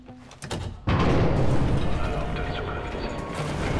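A heavy mechanical clunk of a two-man lock engaging in Wolfenstein: The New Order, a brief click followed by a loud grinding rumble that sustains and slowly settles.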